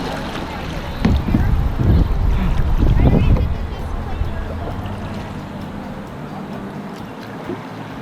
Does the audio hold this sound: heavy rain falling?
no